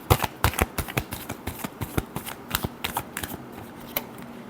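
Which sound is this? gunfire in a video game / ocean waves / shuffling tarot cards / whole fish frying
shuffling tarot cards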